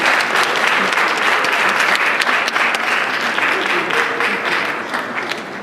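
Crowd applause for staff volunteers at a high school Poetry Out Loud semifinal at Malden High School, a full, steady patter of many hands that gradually thins and fades toward the end.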